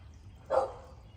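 A single short dog bark, fairly close, standing out from a quiet background.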